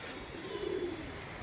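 A pigeon gives a single soft, low coo outdoors, faint and brief against a steady background hiss.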